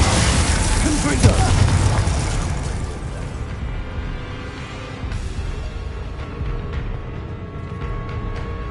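Confringo explosive spell from the video game Hogwarts Legacy, a loud booming blast at the start that decays into a rumbling tail, with game sound effects continuing after it.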